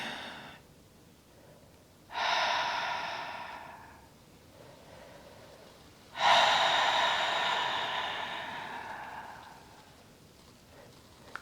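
Two long, slow exhalations during a guided breathing exercise, each a broad airy rush that starts suddenly and fades gradually over several seconds, close and fairly loud with a quiet pause between them.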